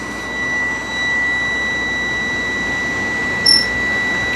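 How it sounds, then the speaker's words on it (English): A vehicle cab's heater blower fan turned up to full speed gives a steady, even broadband whoosh throughout, while a faint constant tone hums above it and a short high beep sounds near the end. "Turn your blower all the way up."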